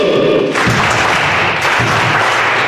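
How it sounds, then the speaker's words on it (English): Bayete clap at an Africa Day youth gathering, a crowd clapping together in a dense, loud, sustained burst of applause. "I want us to give him a Bayete clap."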